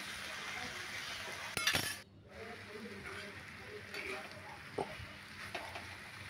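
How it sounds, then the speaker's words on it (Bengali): Potato, eggplant and loté greens curry being stirred in a pan, light clinks and scrapes of a spoon against the metal with a soft sizzle beneath, one sharper rattle early on, while someone talks over it. "দেখুন নাড়ছি এটাকে ভালো করে"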